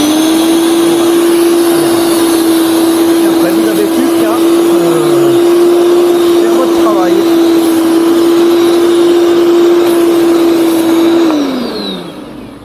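A Parkside PLV 1500 C2 electric scarifier starts up and runs with a loud, steady motor whine and a grinding rattle of tines scraping the ground, cutting off near the end as it winds down.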